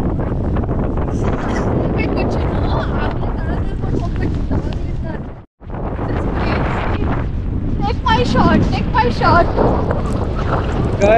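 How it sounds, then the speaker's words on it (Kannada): Strong gusty wind buffets a microphone on a beach in Cornwall, a loud continuous roar that drops out briefly midway, with people talking under it. "ನೋಡಿದ್ರೆ ಈ ತರ ಫುಲ್ಲು ಗಾಳಿ ಮತ್ತೆ"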